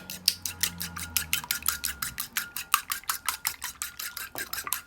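An egg beaten in a bowl for fried green tomato batter: rapid, even clinks of a utensil against the bowl, about five strokes a second, close and crisp.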